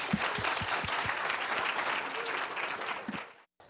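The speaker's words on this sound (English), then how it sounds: "if you could all just join me in giving Trevor a welcoming round of applause" An audience claps steadily for Trevor Hastie at a Stanford data science lecture, a dense sustained round of applause that tapers and cuts off near the end.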